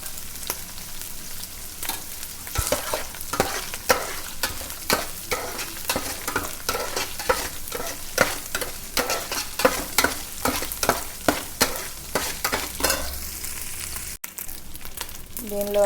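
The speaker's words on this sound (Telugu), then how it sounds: "బాగా ఫ్రై చేసుకోవాలండి." Fish sizzles steadily as it fries in a pan for a tangy tamarind-leaf fish curry, with repeated scraping and stirring strokes crackling over the oil, close and fairly loud, settling briefly near the end.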